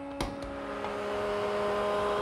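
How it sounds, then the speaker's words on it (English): A woodworking jointer spins up with a sharp click and then a sustained, steady motor whir and hum, used to smooth saw marks from a piece of wood for a double dresser. "To smooth out the saw marks on that piece, I'm going to use my joiner"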